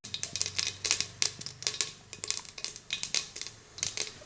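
Mustard seeds pop in hot oil in a pan, giving rapid, irregular dry crackles close up, with a faint low hum underneath.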